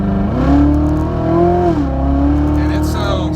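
A Corvette Z06 pulling away from a stop sign, its engine note climbing steadily and loud, dipping briefly once partway through as if shifting, then rising again with a smooth, strong whine.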